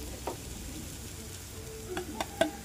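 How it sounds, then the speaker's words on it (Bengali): Arhar lentils toast in a pan with spices, a gentle, steady sizzle broken by a few sharp clicks and clatters of stirring, close and with no speech. "ডালটা মোটামুটি ভাজা ভাজা হয়ে গেছে"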